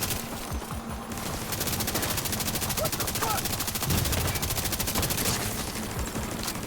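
Rapid first-person shooter gunfire rattles in a steady, continuous automatic burst lasting several seconds, fairly loud and close, with some faint talk underneath.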